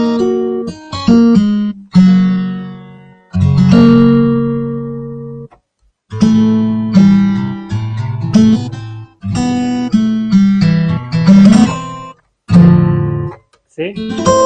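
Sampled guitar from a Native Instruments Kontakt library, played as loud plucked phrases and chords in short bursts with pauses between them, close and without talk.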